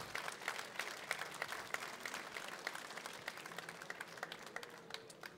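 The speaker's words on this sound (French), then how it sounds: "on vous applaudit bien fort" A crowd at a fishing prize-giving ceremony applauds a winner, with dense, continuous clapping from many hands, moderately distant and fairly quiet, sustained throughout.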